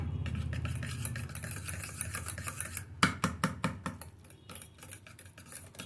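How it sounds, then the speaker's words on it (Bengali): A metal whisk beats yogurt in a bowl for Bengali misti doi, a steady run of rapid clinking scrapes that turns sharper and more rhythmic partway through, close up with no voice. "এবার চামচির সাহায্যে না ফেটিয়ে আমি একটা হুইক্সের সাহায্যে ভালো করে ফেটিয়ে"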